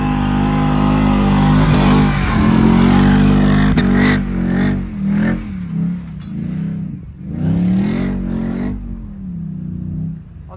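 A Nissan Y62 four-wheel drive charges across soft beach sand, its engine revving hard and loud up close, the drone rising and falling through several surges of throttle with no voices over it.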